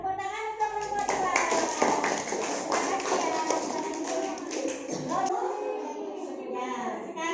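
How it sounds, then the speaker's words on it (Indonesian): Schoolchildren in an elementary classroom clap as a class, a close burst of dense, uneven hand claps mixed with children's voices, fading into scattered taps toward the end. "tepuk tangan untuk kelompok 2"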